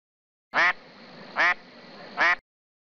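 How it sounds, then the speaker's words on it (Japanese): A duck quacks three times in a steady rhythm, loud and close, with nothing else around. "アヒル"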